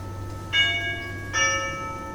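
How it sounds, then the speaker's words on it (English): A manor doorbell chimes twice in a bright, ringing two-tone pattern, each strike sustaining and fading, heard clearly in a quiet room. "As the doorbell rings,"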